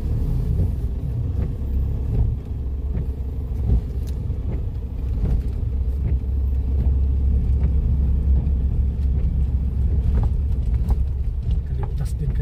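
Steady low road-traffic rumble from cars in slow, congested traffic on the land route from Manila toward Mindanao, continuous and fairly loud throughout with occasional faint clicks and knocks, no voices.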